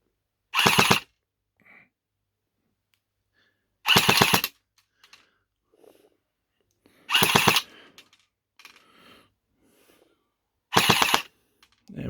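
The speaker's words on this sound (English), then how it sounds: "Let's put it on full auto and have a little burst of that." A Well R2 Scorpion BB gun fires in full-auto, four short loud bursts of rapid cracks spaced about three seconds apart, with faint handling clicks and rustles between them and no talking.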